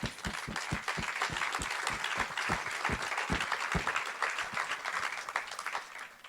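An audience at an evening gala for business mentors claps, individual hand claps standing out in a quick, uneven rhythm at moderate distance, fairly soft overall and easing toward the end.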